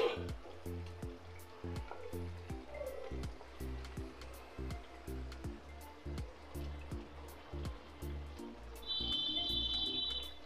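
Katla fish frying in a pan for a Bengali onion katla kalia, a faint, steady sizzle under a rhythmic pulsing noise, with a thin high tone near the end.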